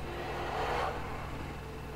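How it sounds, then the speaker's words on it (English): A car engine idles and whirs steadily in The Vanishing of Ethan Carter, a low continuous hum that swells briefly, with no talk over it. "Maybe we should turn the engine off"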